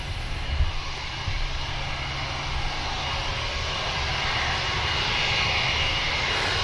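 Finnair Embraer E190 jet engines lining up for departure at Manchester Airport, a continuous broad roar that swells slightly and holds steady, with a faint higher whine emerging near the end.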